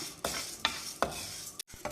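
Toor dal roasting on low flame in a hot pan, stirred with a utensil in three or four distinct scraping strokes over a soft sizzle, close up and without speech.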